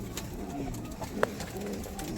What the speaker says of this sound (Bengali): এটা কি পাপুস পায়রা